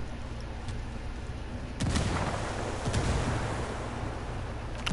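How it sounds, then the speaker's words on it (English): A frag grenade explodes in a shooter video game: one heavy, muffled blast lands partway through over constant background noise, followed by a smaller second burst. "Frag out."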